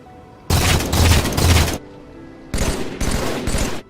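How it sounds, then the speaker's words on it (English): Weapon fire from the video game Halo 4 comes in two loud bursts of rapid automatic shots, separated by a short quieter gap, close and punchy throughout with no voices. "They redesigned sound for guns that is worse."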